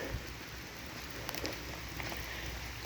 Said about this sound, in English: Did not expect rain like this.